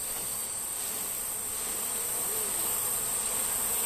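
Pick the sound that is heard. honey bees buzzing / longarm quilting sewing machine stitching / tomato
honey bees buzzing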